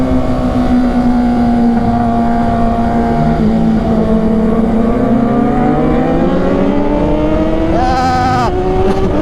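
Yamaha MT-09 motorcycle revving hard as it climbs an uphill road race, a loud engine whine rising in pitch and sweeping through gears, with crowd noise around it.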